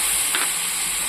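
Water poured into frying spice paste for a rupchanda fish curry with eggplant sets off a steady, close sizzle and hiss, with a brief louder burst near the middle.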